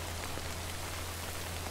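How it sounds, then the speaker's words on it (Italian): Acid rain falls steadily in the video game Death Stranding, an even, dense patter of drops on surfaces with a low steady hum beneath and no speech. "Da questa pioggia, che è una pioggia acida"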